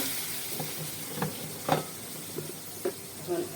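Green chili hits a hot pan and sizzles quietly, with a low steady frying hiss broken by a few short crackling bursts and stirring scrapes.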